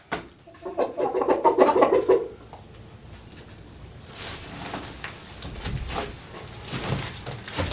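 Hens cluck and squawk up close for a couple of seconds in a busy, loud burst. Quieter shuffling and scattered knocks follow, with a few softer clucks.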